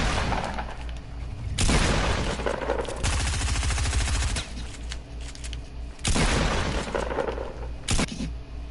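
Rapid gunfire from an assault rifle in a shooter video game, loud bursts of automatic fire in several clusters with short pauses between them, alone without talk.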